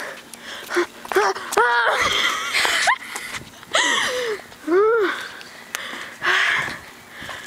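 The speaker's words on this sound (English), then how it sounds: "We're kind of breathing heavily." Heavy, ragged breathing after running, with wheezing gasps and pitched huffs coming in uneven bursts close to the mic, some sounding half like laughter.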